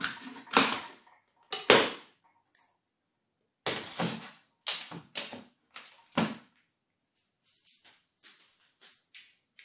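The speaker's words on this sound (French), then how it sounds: "On va découper la pomme." A knife cuts up an apple with a series of crisp, irregular chopping knocks on a board, a few spaced strokes and then quicker clusters, with silence between.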